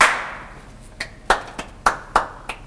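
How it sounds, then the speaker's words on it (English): Hand claps ring out sharply in a reverberant room, a loud opening clap followed by six scattered single claps at uneven intervals. No one speaks. "You can do another clap if you want"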